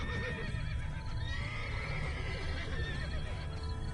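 A unicorn from The Witcher 3 neighs in a drawn-out whinny over a steady, dense game soundscape, with faint hoof clip-clops in the background.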